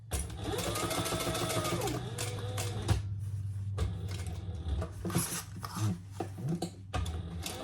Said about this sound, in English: we'll come across here to do the top stitching